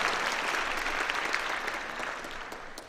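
A school assembly audience claps, a dense, steady burst of many hands at moderate distance that tapers off gradually, heard alone without talk.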